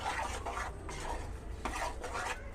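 A spoon stirring gongura leaves and raw prawn curry in a pan, steady scraping and clinking strokes against the metal, close and fairly soft, with no talking.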